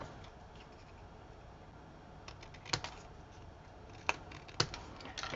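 Scissors snip paper wings off a Halloween craft in a few short, sharp cuts spaced apart, close but fairly quiet over faint background noise.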